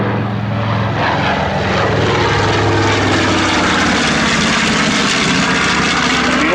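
A B-25 bomber, the Yankee Warrior, roars past at a World War II weekend air show, its propeller engines a loud, steady, continuous drone filling the whole clip with no talk.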